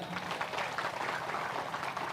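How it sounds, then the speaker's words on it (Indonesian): Large gathering of worshippers at a mass Islamic prayer assembly claps together in a steady, even wash of applause, soft and distant with no single claps standing out. "Tepuk tangan dulu."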